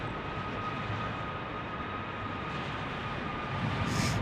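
Jet engine roar of heavy airliners at Las Vegas airport, heard as a steady, moderately distant broadband rumble that holds level throughout with no talk.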